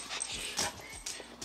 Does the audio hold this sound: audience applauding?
no